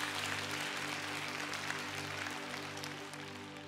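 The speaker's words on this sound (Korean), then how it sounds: "강명옥 전사님께 감사의 박수 드리겠습니다" Congregation applauding in thanks after a Korean church festival sermon by an evangelist, a steady dense wash of clapping lasting throughout at moderate level over a low sustained organ-like hum.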